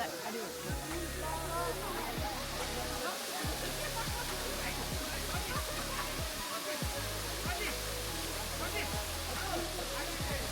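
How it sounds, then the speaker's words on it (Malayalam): A small waterfall in a rainforest, seen on a family hike, gives a steady, dense rush of falling water that fills the whole clip at even loudness, with people talking over it now and then. "ഇത് കൊച്ചു വെള്ളച്ചാട്ടമാണ്"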